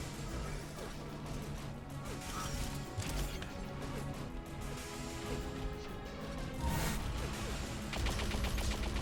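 Sniper rifle shots in an Unreal Tournament match, loud cracks and impacts within dense continuous game noise, with brighter bursts near the end.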